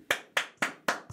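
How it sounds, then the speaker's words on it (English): Five sharp hand claps close to the microphone, evenly spaced in quick succession with nothing else audible between them. "Don't clap it while there's microphones around, Mike."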